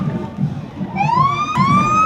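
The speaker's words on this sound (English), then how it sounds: "Let's get this thing kicked off tonight with the USF police car." A USF police car opens a campus homecoming parade with its siren, a rising electronic wail that climbs over a steady low crowd rumble, close and loud.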